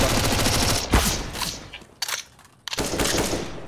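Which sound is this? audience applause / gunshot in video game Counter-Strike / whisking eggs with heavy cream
gunshot in video game Counter-Strike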